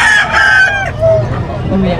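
A gamecock stag at a rooster market in Bocaue crows loudly and close by in one drawn-out call, with a voice speaking briefly underneath.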